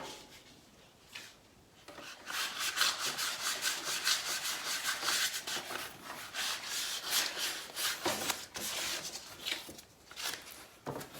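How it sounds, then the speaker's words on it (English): Steady back-and-forth rasping of hand sanding on wood, rhythmic strokes continuing for several seconds at close range. "I'll just go over it with some finer paper just because."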